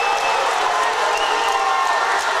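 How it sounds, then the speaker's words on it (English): A packed gym crowd at a girls' high school basketball game between North Lamar Pantherettes and Dallas Lincoln Lady Tigers roars and cheers loudly and continuously, a dense sustained wash of voices. "that'll get this crowd fired up"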